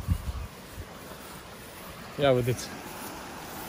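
A fast-flowing river swollen by heavy rain makes a steady, broad rushing roar throughout, with a short burst of speech over it partway through.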